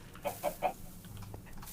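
A Minecraft chicken gives a few soft, short clucks in quick succession, faint against a quiet game background.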